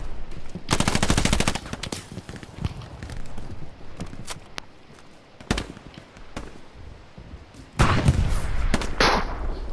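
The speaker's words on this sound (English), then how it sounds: "just fired a rocket over my head" A rocket is fired overhead in the World War II game Hell Let Loose during trench fighting. Loud roaring blasts near the start and end surround sharp, scattered rifle and machine-gun shots.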